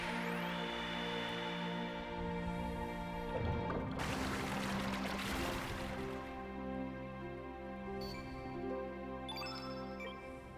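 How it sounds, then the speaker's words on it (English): Water Breath spell from Chrono Cross plays as a shimmering, tinkling magical effect over sustained musical tones, with a burst of splashy watery noise in the middle and bright chimes near the end. "I'll do a good water breath on him."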